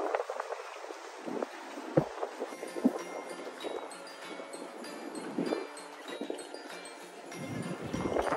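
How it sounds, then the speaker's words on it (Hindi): Strong wind blowing outdoors during a Christmas-season outing in Canada. It buffets the microphone as an uneven, rumbling rush that swells and fades in gusts, with faint background sounds underneath. "काफ़ी तेज हवा है"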